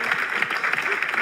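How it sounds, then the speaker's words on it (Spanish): Studio audience applause greets a guest on a Spanish television talk show, a dense, continuous burst of clapping from a crowd that fills the short moment at full volume. "Un fuerte aplauso para Fernando Pena."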